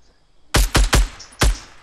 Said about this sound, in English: I'm shooting bushes